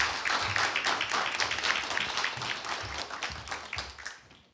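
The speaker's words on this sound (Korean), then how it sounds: "박수 부탁드리겠습니다." An audience at a crowdfunding pitch event for social economy businesses applauds after a company presentation, a steady, moderately quiet patter of clapping that fades out toward the end.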